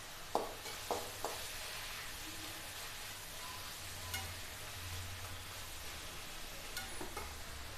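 Multigrain adai batter with drumstick leaves frying on a hot pan, a steady soft sizzle and crackle throughout with a few sharp clinks of a utensil near the start.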